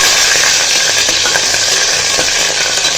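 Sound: curry leaves and green chillies sizzling while frying in oil

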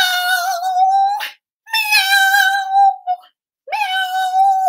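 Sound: children imitating cat meows

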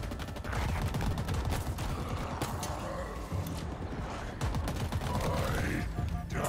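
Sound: gunfire in the video game Halo Infinite

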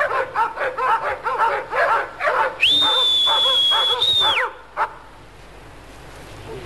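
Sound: dog barking and a person whistling

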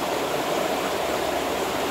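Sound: relaxing sound of flowing river water

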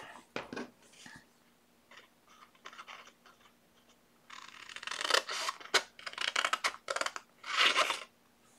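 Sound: cutting a paper square for a wallet mailer

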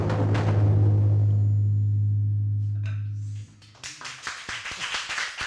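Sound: audience applause after a taiko drum performance

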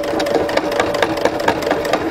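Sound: sewing machine stitching over a pants waistband seam

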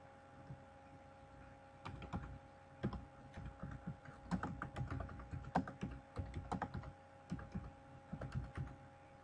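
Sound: typing on a computer keyboard

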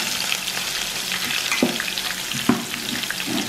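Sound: curry leaves and onion frying in hot oil

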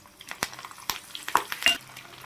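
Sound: tempering spices sizzling in oil

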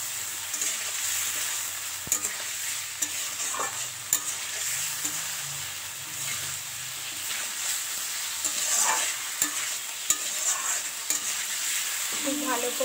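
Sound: stir-frying fried potatoes and eggs in spice masala

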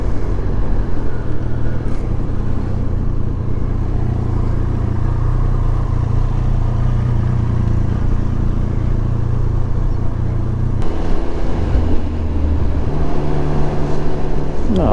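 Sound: Triumph Speed Triple 1200 RS motorcycle engine sound

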